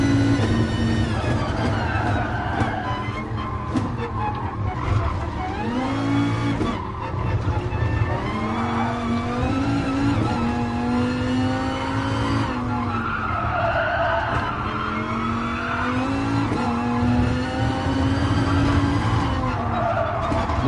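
A race car in Gran Turismo Sport roars around Fuji Raceway in a daily online race. The engine drones loud and continuous, rising and falling with gear changes, under sustained tyre squeal and skidding through the corners.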